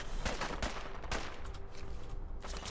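Several rapid gunshots crack out in Fallout 4 in quick irregular bursts, fairly close and sharp, with a scattered volley toward the end.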